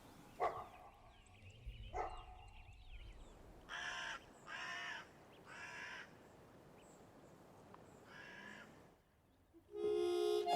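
A dog barks in a series of short, separate woofs at an outdoor house, mixed with crow-like cawing calls, then a sharper burst near the end; no talking.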